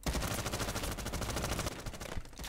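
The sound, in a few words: gunfire with recoil in Roblox Modern Warfare 2 video game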